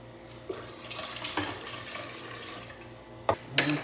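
Water sloshes and trickles as a quart is poured into a water distiller during a citric acid cleaning, with a few clunks and splashes and a sharp knock near the end.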